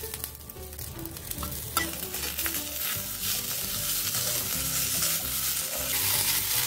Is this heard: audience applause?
no